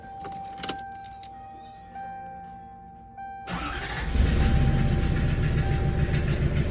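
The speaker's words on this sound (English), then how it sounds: "That knocking is my catalytic converter." Keys jangle and click near a Lexus SC 400 with a damaged catalytic converter before its engine cranks and catches, then settles into a loud, rough-running idle that continues to the end.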